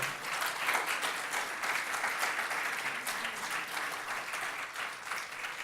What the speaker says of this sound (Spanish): ¿Por qué no le da un aplauso al Señor por eso?